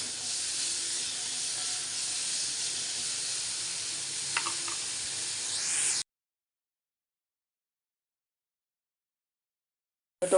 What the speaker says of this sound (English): Saute this and cover and cook till the tomatoes are soft.